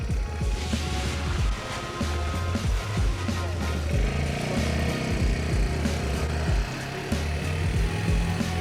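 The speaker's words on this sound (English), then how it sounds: "Got a 13 horse, 420cc motor." A 13 hp, 420cc engine drives a para-tow winch in a steady, loud mechanical drone that runs throughout, with a rough, buzzing tone like a lawn mower or small motorcycle.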